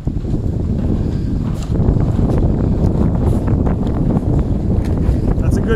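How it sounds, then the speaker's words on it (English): A 60 to 90 km/h wind gust batters a 48-foot Canadian military wood-frame mod tent, a loud rushing, buffeting roar that swells partway through and stays strong to the end. "That's a good gust."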